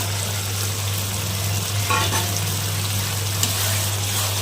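Curry masala fries in a pan with a dense, continuous sizzle over a steady low hum, and a few soft scraping stirs surface briefly partway through.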